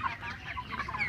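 Broiler chickens on a farm cluck softly in a quick run of short, overlapping calls, fairly faint, with no talk over them.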